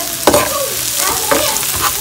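Shrimp sizzle loudly in a pan with onion, garlic and scallion, a close, dense frying hiss. A few sharp scraping stirs break through it.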